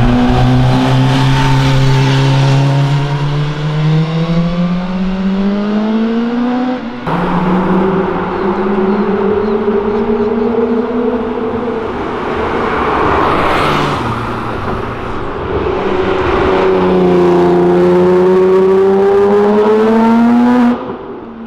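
Loud car engines roar and rev as cars downshift on Avenida Europa, a city avenue, pitch sliding down and climbing again through gear changes, close by and continuous with no talking.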